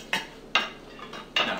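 Chopped pieces scraped off a cutting board with a knife into a small bowl, three short close scraping and clinking bursts with quiet gaps between.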